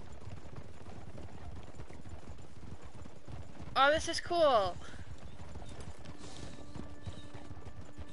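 Horse hooves trotting in the video game Red Dead Online, a short burst of rhythmic clip-clop with a brief whinny, heard mid-clip under quiet game ambience and a player speaking.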